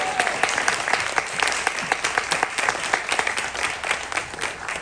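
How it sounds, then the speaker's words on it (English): A room of people gives a round of applause at a ballroom community panel discussion, loud, close, steady clapping with a few sharper hand claps standing out, lasting about five seconds. "Can y'all give them all one round of applause?"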